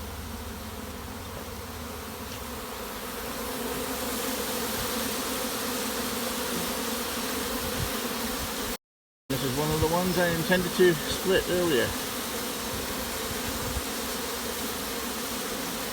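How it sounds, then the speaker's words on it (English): A honey bee swarm pouring out of a hive, a loud continuous mass buzzing of countless bees close by, broken by a brief cut, with someone speaking over the drone. "The bees are literally pouring out of the hive, sometimes falling down onto the ground."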